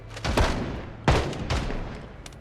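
Three sharp gunshots ring out close and loud, spaced about half a second apart, in the zombie survival game Project Zomboid inside a pet-food factory.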